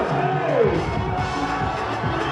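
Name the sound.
audience applauding a pageant contestant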